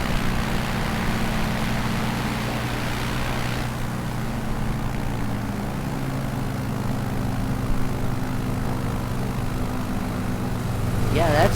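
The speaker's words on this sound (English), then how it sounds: "that's another aircraft in my vicinity" Another aircraft passing nearby in Microsoft Flight Simulator 2020 over Honolulu, a loud continuous propeller engine drone that holds steady and then shifts in tone, with a voice speaking over it.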